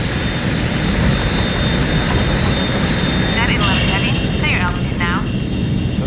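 Airliner jet engines in flight aboard Flight 811, a loud, continuous roar with a steady high whine, while brief radio-style voice chatter rises faintly over it near the end.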